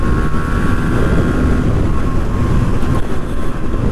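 A loud, steady engine drone from a 20-year-old Yamaha RX motorcycle with a slipping gear, heard close up while riding downhill, droning continuously with slight wavering in pitch.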